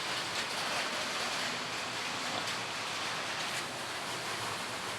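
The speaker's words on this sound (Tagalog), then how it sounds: "umuulan na naman." Rain falling steadily outdoors near an unfinished bathroom under construction, a dense, even hiss of drops that holds at a constant level throughout, with no voices.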